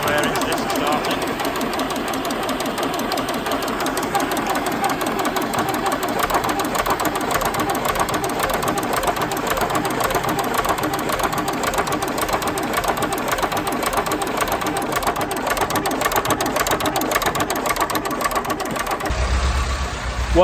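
A cold engine, just started with warm air on a farm machine, runs at a steady idle with a continuous knocking, clattering rumble close by for the whole stretch, with no talk over it.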